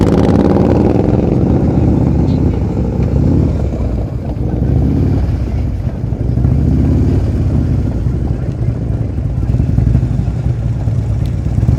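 Motorcycle engine kept under steady throttle at low speed during riding skills practice, a continuous rumbling drone with slight rises and falls throughout.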